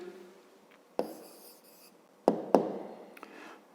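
A pen or pencil writes down a math answer on paper in quiet, soft scratching strokes, broken by a few sharp taps as it touches the page.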